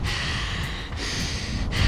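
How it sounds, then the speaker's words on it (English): A runner breathes in and out through the nose, a few close, loud breathy sniffs and exhalations in quick succession, heard alone. "I want you to breathe in and out through your nose."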